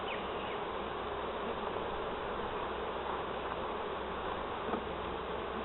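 Honeybees swarm over the frames of an open hive during an inspection, a dense, steady buzzing close by that holds an even level throughout, with no talking.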